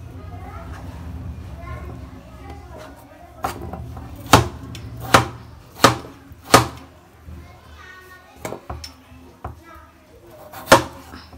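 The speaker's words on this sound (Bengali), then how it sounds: "রান্না করার জন্য এই যে কেটে নিব এগুলা, তরকারি রান্না করব" A knife chops eggplant and potato for a fish curry, sharp irregular thuds against a cutting board spaced a second or so apart, with children's voices and household chatter running underneath.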